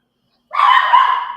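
A single dog bark or drawn-out yelp sounds loud and close right after a moment of silence, lasting under a second, in a home setting in Mexico.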